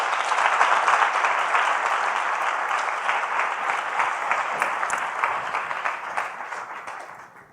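Applause for someone speaker at a science event: a full, sustained round of clapping from an audience, steady and even in density, gradually thinning and fading out at the end.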